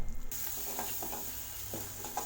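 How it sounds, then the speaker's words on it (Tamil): Spice powders sautéing in a pan for a brinjal gravy give a soft, steady sizzle with light scraping stirs, after a brief louder clatter at the start. "மிக்ஸ் பண்ணிவிட்டு மசாலா பொடிகளை லேசாக வதக்கி விட்டுக்கலாம்."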